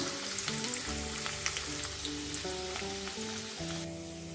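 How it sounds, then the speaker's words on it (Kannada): Tomato and onion frying in oil in a pan on a gas stove, a continuous crackling sizzle at close range with a few stirring touches, no voices. "ಸ್ವಲ್ಪ ಎಣ್ಣೆ ಹಾಕ್ಕೊಳ್ಳೋಣ ಟಮಟೆ ಈರುಳ್ಳಿ ಹಾಕ್ಕೊಳ್ಳೋಣ ಚೆನ್ನಾಗಿ ಫ್ರೈ ಮಾಡ್ಕೊಳ್ಳೋಣ"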